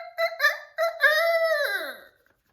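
A human voice imitates a rooster crowing, a loud close cock-a-doodle-doo with short choppy opening notes and a long drawn-out final call that slides downward and fades.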